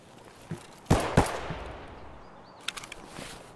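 Two loud, close gunshots crack out in quick succession during Escape from Tarkov multiplayer play near a cabin. Fainter scattered pops follow over a low outdoor background, with no talk.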